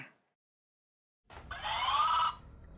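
After a silence, a loud electronic quiz buzzer tone sounds for about a second, alone and close, with a faint rising whine.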